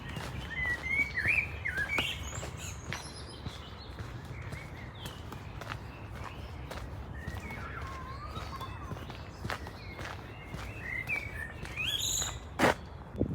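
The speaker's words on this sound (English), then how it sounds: "Most of the flowers are in bloom and you can hear the birds sing." Birds sing and chirp steadily in a botanical garden in Cologne, with bright repeated calls spread through the clip over a low background rumble. A few footsteps or knocks can be heard as well.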